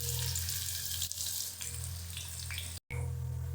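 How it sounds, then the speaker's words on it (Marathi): Chopped onion and cumin frying in a pan for dry spinach bhaji, a continuous close hiss and crackle with faint stirring, briefly cut off near the end, no voices. "एक छोटा कांदा कापून घेतला तो टाकते कांदा आपण चांगला खरपूस भाजून घ्यायचा"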